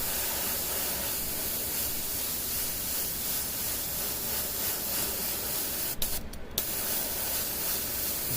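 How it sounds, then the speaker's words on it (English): An airbrush is cleared of paint while painting a tabletop miniature, giving a steady close hiss of spray that runs throughout, broken by a brief clicking interruption partway through. "Clearing out my airbrush."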